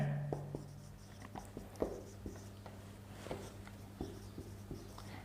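Pen or chalk writing during a class 12 maths lesson, soft scratchy strokes and light taps recurring irregularly, faint and close over a quiet steady hum.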